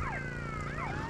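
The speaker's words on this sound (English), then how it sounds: "Can this fucking siren go off?" Police siren from the GTA Vice City video game, a steady wailing tone sweeping up and down over a low engine drone, loud and continuous with no talk.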